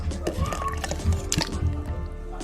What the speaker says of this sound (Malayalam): പാല് കട്ടാക്കാൻ വെച്ചിട്ടായിരുന്നു ഫ്രീസറിൽ അതും കൂടി ഇതിലേക്ക് ഒഴിച്ചു കൊടുക്കാം